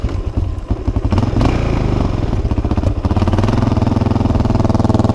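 Yamaha XT 350 motorcycle being ridden, its single-cylinder engine thumping loud and close with a rapid pulsing beat that rises as it speeds up, over some rattle and clatter.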